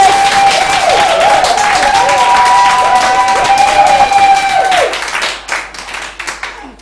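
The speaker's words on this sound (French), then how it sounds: "Et oui, on peut applaudir" Audience at an award ceremony applauding a prize winner, loud continuous clapping and light cheering that tapers off and thins out near the end.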